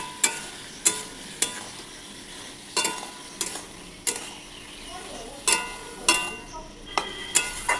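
Ground chilli and cumin paste frying in a pan for a Bengali aloo jhinge kosha, with a spoon scraping and knocking against the pan in irregular sharp strikes over a soft sizzle.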